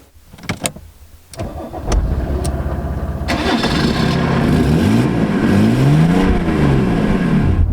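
A 1991 Mercedes-Benz W124 300D diesel cranks with a few sharp clicks, then starts and settles into a loud, steady clattering idle with slight revving, heard close up and alone.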